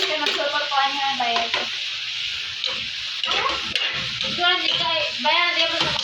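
Pork, onion and tomato stirred in a pan, a soft scraping and sizzling bed under intermittent talking voices.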